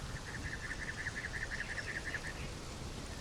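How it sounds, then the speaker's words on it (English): Jungle ambience in the video game Conan Exiles: a rapid, repeating bird trill rings out clearly for about two seconds over a steady wash of rain and insect noise, with no monkey calls evident. "Listen to the monkeys and the birds of the jungle."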